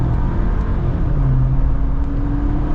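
A 2024 Jeep Wrangler Sport S with its 2.0 turbo engine accelerates hard, a loud, steady engine roar with road rumble sustained throughout and no talking.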